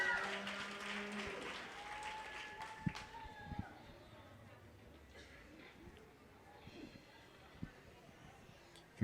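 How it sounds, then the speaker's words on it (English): Applause from a fair crowd at a youth market steer and beef livestock show, a dense patter in the first seconds under a loudspeaker voice, then fading to scattered claps and ring noise with occasional thumps. "Big round of applause for these kids."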